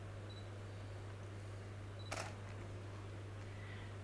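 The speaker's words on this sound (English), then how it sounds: "So let's take another photograph here." A single-lens reflex camera fires its shutter once near the midpoint, a crisp, brief click over steady low room hum, taken while photographing a baby's face at 70 mm.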